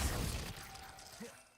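Glacius ice spell in Hogwarts Legacy, heard as a short crackling shatter that quickly decays into a faint icy tail.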